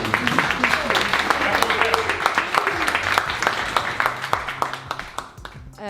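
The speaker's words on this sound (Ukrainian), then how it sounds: "Ребята, ну оплески, будь ласка" Applause from an audience at a patriotic business forum, dense overlapping clapping throughout with some voices and hall murmur underneath, fading near the end.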